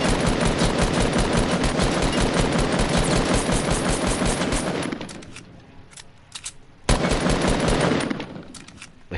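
Sustained automatic gunfire from a gun in Fortnite, a dense rapid burst lasting several seconds, then a brief pause and a second shorter burst, loud and alone without talk.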